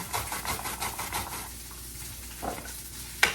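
Daikon radish being grated on a handheld grinder that catches the shreds in a container, a rapid rhythmic rasping of strokes close up that stops partway, followed by a couple of sharp knocks.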